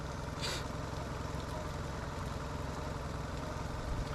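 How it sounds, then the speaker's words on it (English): A vehicle engine with an idle air control valve and a broken fuel line idles in a steady, even drone, close and constant throughout, with no voices. "with the IAC, it is idling better"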